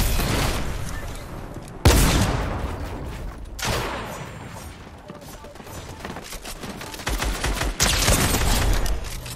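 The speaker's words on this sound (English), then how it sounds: "He's using the fucking tactical shotgun" Repeated heavy shotgun blasts from a tactical shotgun in a Fortnite match, loud booming shots at irregular intervals with a dense game-effects bed between them and some overlapping fire near the end.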